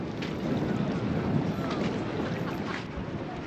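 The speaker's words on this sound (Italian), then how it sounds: "il vento di scirocco abbastanza insistente" Steady sirocco wind rushes and buffets the microphone in a continuous broadband roar, with faint sea water sounds underneath.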